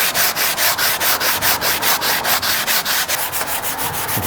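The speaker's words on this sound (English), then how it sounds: "I'm gonna take a sanding block. This is probably about 120 as well. And I'm gonna sand this, try and get it smooth." Sanding block with roughly 120-grit paper rubbed back and forth on a wooden interior window sill, a close, steady run of rhythmic raspy strokes, about four per second, with no talking.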